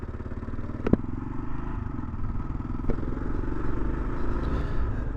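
A Kawasaki KLR 650 motorcycle rides off-road, its engine droning steadily up close with a couple of sharp clatters and knocks from the terrain, and no voices.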